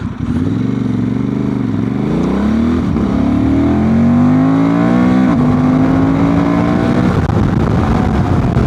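Honda Transalp 750 motorcycle with a remapped ECU launching hard and accelerating, its loud, close engine note climbing steadily through the revs with brief dips at gear changes, running continuously with no talk.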